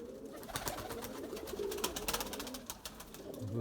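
Pure-bred Erzurum white pigeons cooing softly in a loft, low murmuring calls repeating under faint background noise, no talking.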